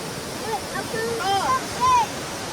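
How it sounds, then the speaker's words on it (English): Water runs steadily through a gold panning sluice set at an angle in a country park stream, a continuous broadband rush with brief children's voices and chirpy vocal bits rising over it. "we've got the right amount of water flowing through it"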